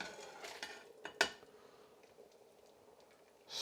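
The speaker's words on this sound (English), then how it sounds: "Stir everything up." A spoon stirs Maryland crab soup with crab meat in a pot over low heat, giving a few soft clinks and scrapes early on, then a quiet, low simmer.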